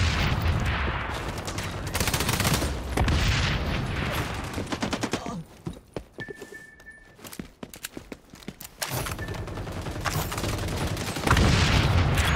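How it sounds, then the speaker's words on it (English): A grenade explodes amid bursts of rapid gunfire in the shooter game XDefiant on the Zoo map, with loud booms and volleys of shots, a quieter stretch in the middle, then more heavy firing. "Grenade out!"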